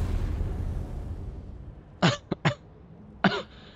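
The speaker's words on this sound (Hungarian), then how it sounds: "Bocs, csak köhögni tudok." A person coughs three times in quick succession after a fading background rumble, then gives one more cough a moment later, all close and loud.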